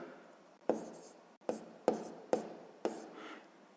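A pen writes out a sixth-grade math solution on paper in a quiet room, five distinct close bursts of scratchy strokes separated by short pauses, soft overall with no talking.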